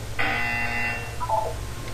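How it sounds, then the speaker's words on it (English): A buzzer in the video game Portal 2, one tonal electronic buzz of just under a second, followed by a fainter short blip, over a steady low hum. "When you hear the buzzer, look up at the ceiling"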